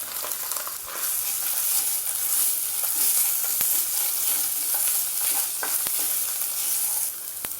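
Coconut paste fries in a pan for a Bengali kantola-and-prawn curry, giving a continuous loud sizzle broken by a few sharp spatula scrapes and taps as it is stirred.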